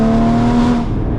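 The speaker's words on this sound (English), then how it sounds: "And this exhaust, man, so intoxicating." A Porsche Cayman GT4 exhaust drones loud and close under steady throttle, a strong sustained engine tone that fades slightly near the end, with no talking.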